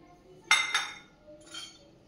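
A bowl of dry chana dal is tipped into a metal kadhai, giving two quick bright rattling clatters of grains hitting the pan, followed a moment later by a softer, fainter patter.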